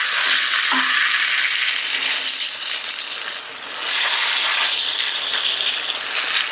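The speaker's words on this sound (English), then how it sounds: "we have the last bit of chicken in the frying pan" Steady close-up sizzling and crackling of chicken frying in a hot pan, a continuous hiss with light spatter and no voices.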